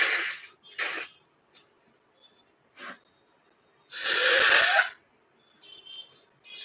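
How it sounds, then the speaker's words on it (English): Several short nasal bursts and then one long, loud honking blow of the nose, close up, with quiet pauses between. "Hold on, I'm going to blow my nose."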